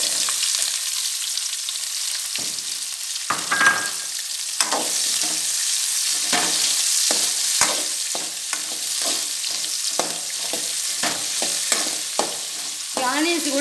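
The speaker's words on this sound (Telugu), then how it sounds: "ఇప్పుడు ఆనియన్ వేసేద్దాం" Onions fry for a mushroom biryani, hissing steadily in hot oil. A utensil stirs them in a string of scraping knocks close by.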